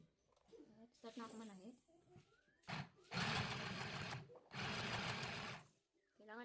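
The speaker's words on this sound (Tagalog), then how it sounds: "Start na ako manahi." A mini sewing machine stitching fabric runs in two long, loud whirring bursts with short pauses between, close up; someone talks briefly before and between the runs.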